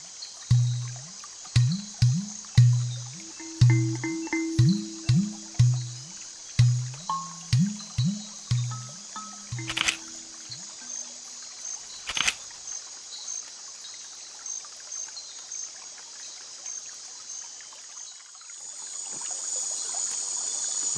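A shallow rainforest stream in Costa Rica at night. A steady high insect drone runs throughout, with a run of low, rhythmic croaking calls in the first half, scattered sharp clicks and a soft trickle underneath.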